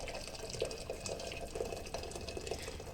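Freshly boiled water poured to brew Turkish tea in a home kitchen, a steady, fairly soft gurgling trickle of liquid running without a break.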